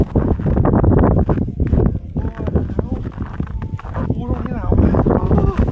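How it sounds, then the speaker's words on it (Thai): Cold wind gusts buffet the microphone in snowy Otaru, a loud, steady rumble running under people talking close by. "เมื่อกี้ลมมันพัดมาหนาวมาก"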